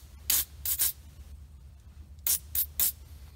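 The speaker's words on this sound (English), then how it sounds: "it's not a bad idea to hit it with a quick blast of lubricant" Several quick hissing bursts of spray lubricant aimed at the AC clutch pulley on a Honda Civic, in two groups of about three short blasts each, close by with quiet gaps between.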